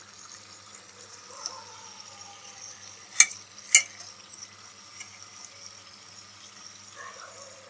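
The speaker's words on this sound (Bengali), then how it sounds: "তো সেম ভাবে আমি সবগুলো ডোনাট ভেজে নিচ্ছি।" Egg-free donuts deep-fry in hot oil over a medium flame, a faint steady bubbling hiss with two sharp clicks midway, heard close and quiet.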